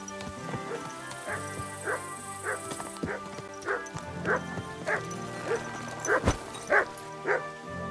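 A dog in Kingdom Come: Deliverance II barks and yips in short, regular bursts about every half second, close and fairly loud, with whimpering in between and a brief human voice mixed in.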